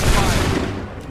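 Massed musket volley from a line of soldiers in Assassin's Creed 3, a dense, loud burst of overlapping black-powder shots at the start, then a rolling rumble that fades over about a second.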